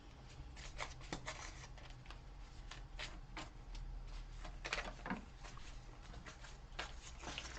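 Tarot message cards are shuffled and drawn in a quiet room, giving a steady run of soft papery riffles and flicks with sharper snaps here and there, close and fairly faint, with no talking.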